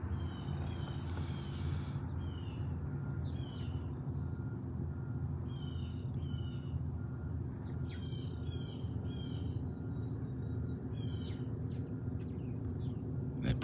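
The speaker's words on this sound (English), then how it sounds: "I like when the birds are making more noise than the cars and the planes and the boats." Small birds chirp and tweet in repeated short calls over steady low traffic and boat rumble outdoors at a Bass River home on Cape Cod, the bird calls fairly faint and scattered across the whole stretch.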